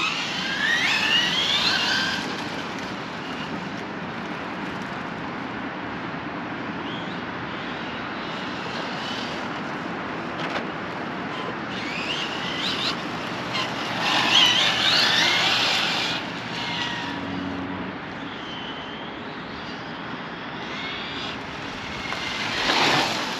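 A Losi R8 RC car, a big 6S-8S on-road machine, drives on pavement with a continuous high electric whine and rushing wind noise, rising in loud bursts as it accelerates and cuts corners.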